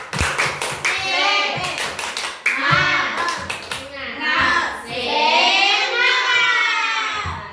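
Rhythmic hand clapping in quick bursts accompanies children's voices chanting together in a lively group cheer during a classroom lesson.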